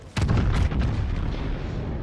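The main guns of a Yamato battleship in World of Warships go off in a sudden, heavy salvo, a loud close boom that rolls on into a long, rumbling decay.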